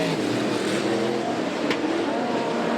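A speedway race car at Archerfield Speedway's King of the Ring novelty night roars past in a dense, steady engine wash, heard from a distance with a brief sharp spike midway.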